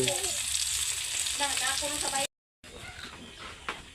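Food frying in a pan in a home kitchen, a steady close sizzle with some stirring, while someone talks over it; the sound drops out briefly, then the sizzling continues.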